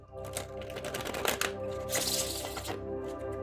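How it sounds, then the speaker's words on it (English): A deck of tarot cards is shuffled by hand, giving rapid, crisp riffling and clacking bursts that come in quick flurries, close and moderately loud. "Shuffle those back up into the deck."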